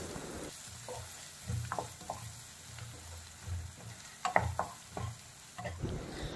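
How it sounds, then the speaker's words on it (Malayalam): Shallots and green chillies stir-fry in a pan, a quiet sizzle punctuated by a series of scraping and clinking spoon strokes against the metal, close and irregular. "നമുക്ക് ഈ ഉള്ളിയും പച്ചമുളകും ഒക്കെ നന്നായിട്ടൊന്ന് വാടി വരുന്നത് വരേക്ക് നന്നായിട്ടൊന്ന് വാഴ്ത്തിയെടുക്കാം"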